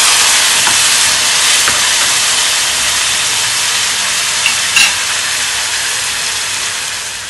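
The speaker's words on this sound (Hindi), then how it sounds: "और साथ ही इसमें मैंने टोमेटो का प्यूरी बना कर रखा है," Tomato puree hitting a hot pan of mixed vegetables, cooked without onion or garlic, gives a loud, steady sizzling hiss that fills the whole stretch with no voices over it.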